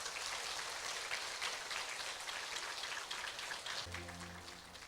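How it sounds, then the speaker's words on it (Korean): Dense, steady applause fills a church worship service sending missionaries off to Malawi, a hiss-like wash of many hands that fades as soft keyboard music begins near the end. "우리 박수 한번 격려 한번 합시다"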